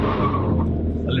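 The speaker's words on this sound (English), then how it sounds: "a little wheel spin." Brief tyre chirp and wheel spin from a 2021 Skoda Kushaq 1.5 TSI manual launching hard, with engine roar and road noise close by and no voices.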